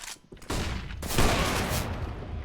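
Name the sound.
Negev machine gun fire in a video game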